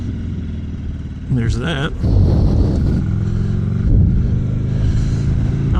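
A Buell XB9R motorcycle engine running after new plug wires, idling with a rumble and then revving up and holding a loud, steady drone, close by, with someone talking over it.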